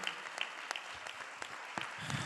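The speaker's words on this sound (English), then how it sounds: "let's give Yolanda a big applause" An event audience applauds a speaker, giving a fairly steady spread of claps from a modest crowd with a few sharper individual hand strikes standing out.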